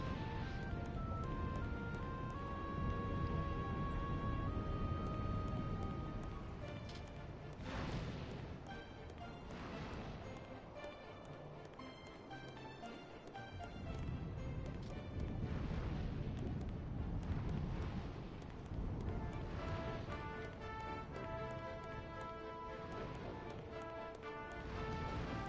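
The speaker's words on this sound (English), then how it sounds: "Lava is so loud!" Lava bubbling and churning in the Dragon Quest Builders 2 video game, a loud continuous rumbling roar with heavy low-end bursts and crackle, steady throughout with no talking over it.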